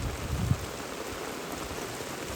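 Heavy rain falls steadily during a fishing outing, a continuous even hiss with a brief low thump near the start and no voices.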